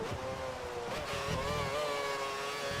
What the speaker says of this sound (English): Yeah, the engine doesn't sound very good,